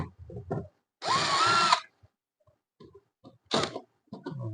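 A power drill or driver works on the rusted screws of the back cover of a Hisense WSX 801W 8.0 kg washing machine, giving two loud whirring bursts, the first about a second long and the second shorter, with quieter handling clicks between them.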